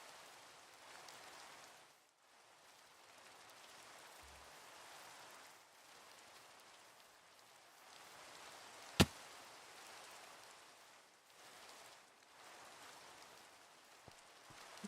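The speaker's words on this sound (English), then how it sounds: "It's raining." Steady rain falling in the video game Minecraft, a continuous soft hiss that swells and dips over about fifteen seconds, with one sharp click partway through and no talk.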